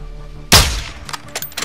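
A sharp gunshot goes off in Call of Duty: Modern Warfare 2, loud and close with a decaying tail, followed by a few fainter reports and impacts.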